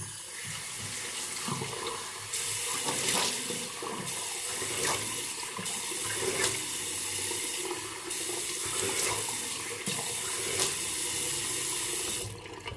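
A water tap runs steadily into a sink while a face is rinsed after a shave, with splashing bursts and pulses of water repeating over about thirteen seconds at close range.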